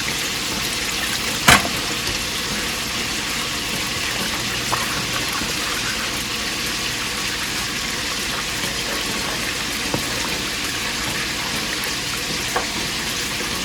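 Cold water runs in a steady stream into flour in a container, with a few brief clinks and knocks along the way.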